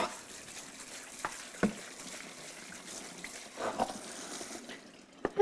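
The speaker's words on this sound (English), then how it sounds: "We'll rinse them quickly here in the basket." Early Girl tomatoes are rinsed in a basket under running tap water, a soft steady trickle and splash with a few sharper knocks and spatters as the fruit shifts about.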